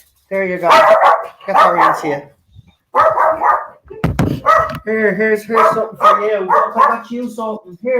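A pet dog yips and barks in short bursts while it is fed indoors, close to the microphone. Someone talks to it throughout.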